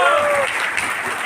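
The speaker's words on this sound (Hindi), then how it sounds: "एक जोरदार ताली होनी चाहिए" Loud applause at a business team meeting, a dense burst of clapping that opens with a brief tonal voice or whistle and then holds steady for a moment.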